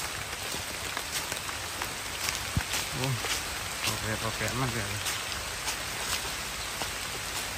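Steady rain patters on a surface in a dense hiss of drops while someone talks briefly over it, during a storm in a forest in Roi Et, Thailand.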